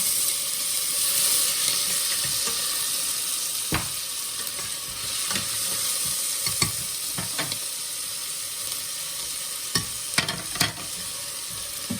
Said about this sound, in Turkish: soğanların pembeleşinceye kadar kavuruyorum